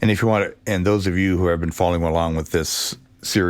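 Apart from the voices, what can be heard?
None of the usual background noises is heard.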